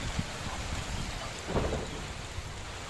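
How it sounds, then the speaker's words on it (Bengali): Heavy rain pours down in a dense, continuous roar that stays steady throughout, with a couple of dull low thumps mixed in and no talking. "বৃষ্টি তো বৃষ্টি ওই অনেক বৃষ্টি"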